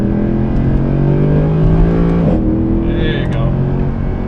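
A Mercedes C63 AMG Black Series, set up as a street-legal racecar, roars loudly and close by as its engine climbs in pitch, then drops sharply with an upshift and pulls again, while a person speaks briefly over it.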